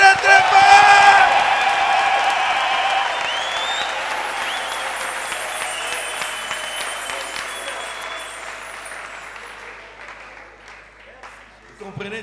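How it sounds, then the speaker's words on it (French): A church congregation applauds and cheers loudly at a service, with clapping and whoops peaking at the start and then tapering off gradually over about twelve seconds. "Acclamez très très très très fort!"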